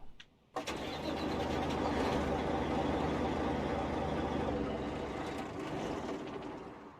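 A Mack R truck engine in American Truck Simulator cranks and fires at once, settling into a loud, steady diesel rumble that keeps going through the rest of the stretch.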